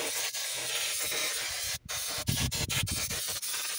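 Degreaser spray hisses steadily onto an engine while the crankshaft main seal and flywheel are being serviced. The spray is close and continuous, briefly cuts out, then comes back in several short bursts.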